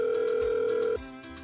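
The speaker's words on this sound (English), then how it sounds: "I pull out my phone and proceed to call her." A phone call rings out in a visual novel video game, a steady electronic tone holding for about a second before it cuts off abruptly into quiet.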